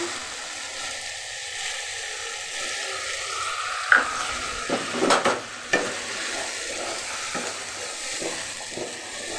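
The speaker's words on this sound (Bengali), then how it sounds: "এখন ডাল রান্না করছি এই যে মাংসর তেলগুলো দিয়ে দিলাম" Dal cooking in oil left from meat, giving a steady frying sizzle with scraping stir strokes and a few sharp clinks of a spoon against the pot around the middle, no one speaking.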